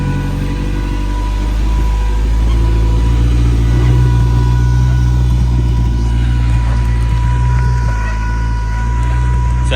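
A four-wheel-drive vehicle climbing a rocky section of the Daniel Trail at Uwharrie, its engine droning loud and close with a steady low rumble that swells slightly, with faint talk in the background.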